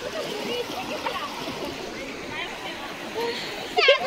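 A fast-flowing river rushes and splashes continuously at moderate loudness, with voices of people talking over the water and a brief louder splash near the end.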